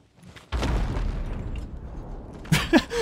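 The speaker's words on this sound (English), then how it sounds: "That seemed like such a little explosion." A small explosion in a video game, a muffled boom that bursts in and rumbles on for about two seconds, followed by a sharper crack and whooshing effects near the end.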